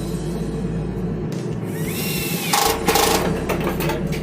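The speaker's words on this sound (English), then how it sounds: "We can pre-drill a little bit." A power drill pre-drilling a hole on a Foxbody Mustang whirs close by, its motor pitch shifting as it bites into material, with a brief rise in loudness partway through.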